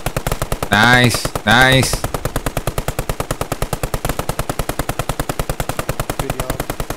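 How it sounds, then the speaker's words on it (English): Rapid automatic machine gun fire in a video game, a long steady stream of evenly spaced loud shots, briefly interrupted by a short spoken remark. "Right, machine gun up."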